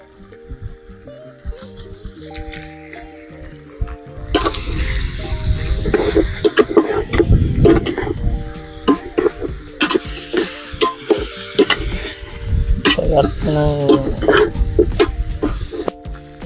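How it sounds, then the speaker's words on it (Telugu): Tomato pieces sizzle and spatter in a hot pan while they are stirred, in a dish of fried chicken feet. A quieter stretch gives way to loud, busy frying with scraping and clattering bursts throughout. "టమాటా ముక్కలు వేసుకుందాం."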